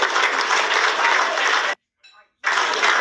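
School event audience in Kenema, Sierra Leone clapping in a dense, loud burst that stops abruptly, followed by a short quiet gap with faint sound, then resumes just as strongly.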